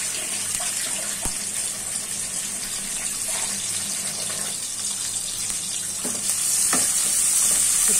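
Chopped onions, sliced green chillies and garlic paste sizzle steadily in hot oil in a pan, a continuous loud frying hiss with a few stirring clicks, growing a little brighter toward the end.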